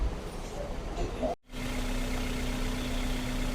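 A Suzuki Cultus engine idles in a Karachi workshop after a full tune-up, a steady low hum with a brief cut in sound partway before the even idle resumes.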